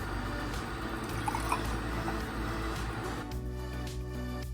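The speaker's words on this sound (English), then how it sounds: "You need about half a cup of oat milk. Pour that in." Oat milk poured into a latte frother, a soft liquid trickle and splash heard close up against a steady low hum, ending abruptly as the pour stops.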